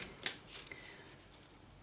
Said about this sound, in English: So I have to learn to shuffle better.